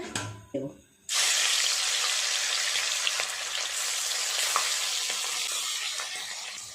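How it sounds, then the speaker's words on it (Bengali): Fish drops into hot oil in a heated wok and breaks into a loud, sustained sizzle that holds steady to the end, after a moment of quieter handling noises. "কড়াই গরম হয়ে গেছে তেল দিয়ে মাছটা ভেজে নেব"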